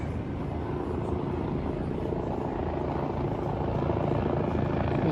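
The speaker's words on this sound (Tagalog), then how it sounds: "Pagdating natin dito, may mga chopper na napaikot-ikot, no?" Helicopters circling overhead near Malacañang, a steady loud rotor and engine drone holding through the whole stretch with no voices.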